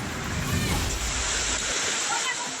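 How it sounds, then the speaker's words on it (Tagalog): Floodwater after heavy rain rushes through a house yard in Matanao, Davao del Sur, a steady loud roar of churning, sloshing water with no voices. "Malailog ang bakuran ng bahay na yan sa Matanaw, Davao del Sur nang rumagasa ang baha dulot ng malakas na pag-ulan."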